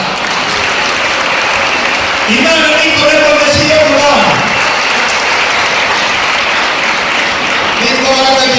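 Applause from a church gospel gathering's audience, steady and sustained throughout, with occasional cheers and whoops rising from the crowd.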